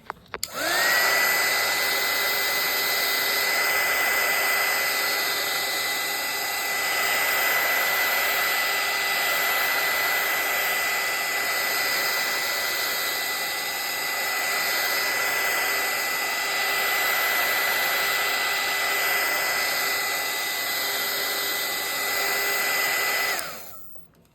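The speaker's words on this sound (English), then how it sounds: "And then I'm just gonna dry it some more." Hair dryer blowing steadily on a journal page, a loud continuous whirring hum with a high whine that holds for over twenty seconds and then switches off.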